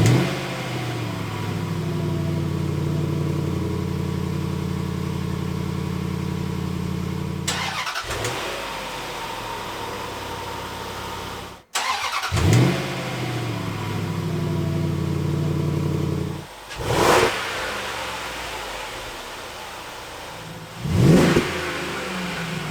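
A Range Rover Sport L320 fitted with a Magnaflow exhaust cranks and fires up, then settles into a steady idle broken by several sharp revs, the exhaust note heard close and without talk.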